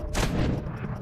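A gunshot in the video game Red Dead Redemption 2 in the town of Valentine, a single sharp blast that rings out and decays over about a second with no talk over it.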